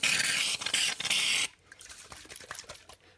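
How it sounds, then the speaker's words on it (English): Shaving cream from an aerosol can, sprayed for marbling paper in a craft project, gives a loud, close hissing burst of about a second and a half, broken by short pauses, then soft squishing and dabbing sounds. "I'm just going to start out with my shaving cream, so it'll probably sound a little bit funny."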